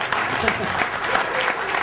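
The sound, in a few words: audience applause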